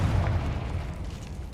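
A Confringo explosion spell in Hogwarts Legacy produces a deep, close boom that fades into a rumbling tail.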